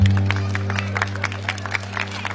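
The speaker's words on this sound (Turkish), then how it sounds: "Alkışlayalım sayın misafirler." Wedding guests at a henna night party applauding, scattered claps ringing out over a loud sustained low drone from the music system, no speech.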